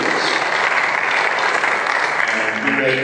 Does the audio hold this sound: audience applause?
yes